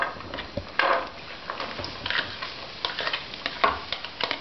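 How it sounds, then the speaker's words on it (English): Chopped onions fry in melted vegan butter in a pan, giving a low, steady sizzle broken by scattered scrapes and knocks as they are stirred, heard close up with no talking. "The butter's frying and I'm going to add the onions."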